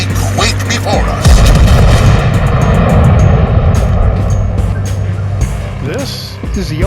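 The Montana-class battleship Ohio firing its heavy guns in the World of Warships Legends game, deep booming blasts with rumbling engine noise, while a voice speaks over the action.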